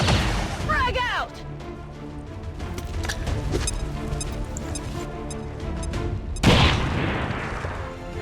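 A frag grenade detonates in the XCOM 2 video game, opening with a sharp close blast and a rumbling tail. A second loud burst lands near the end, with game voices talking over the sound.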